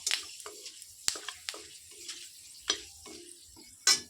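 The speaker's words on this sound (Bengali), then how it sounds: "এই যে ফোড়ন হিসাবে মেথিটা দিয়ে দিয়েছি এবার মেথিটা দেখো ফুটে আসছে" Fenugreek seeds sputter in hot oil in a wok alongside dried red chillies, giving scattered sharp pops and crackles spaced irregularly against a quiet background.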